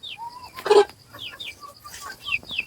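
A country chicken, the kind kept for a leg ailment, clucks and calls in a few short, rising and falling bursts at moderate distance, with no talking.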